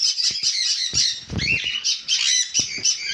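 Sun conure parrots squawking at a bird shop, a dense run of loud, shrill, overlapping calls that keep going almost without pause, punctuated by a few sharper bursts.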